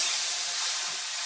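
Drained canned black beans sizzle in a hot pan, giving a steady, fairly loud hiss that holds evenly throughout with no talking.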